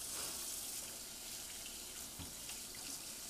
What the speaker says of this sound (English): You're going to need to wash the cylinders with warm soapy water to remove any grime or grit from manufacturing.